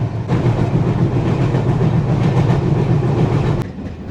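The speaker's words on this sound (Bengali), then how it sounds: "আর এখন আমাদের ট্রেন প্রবেশ করছে নড়াইল স্টেশনে" Train entering Narail station in Khulna division, Bangladesh, a close, loud, continuous rumble and clickety-clack of the carriages that eases slightly near the end.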